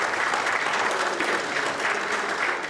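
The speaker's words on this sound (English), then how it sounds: "Maybe one more round of applause." A business event audience gives a full round of applause, dense steady clapping sustained throughout at close range with no talking over it.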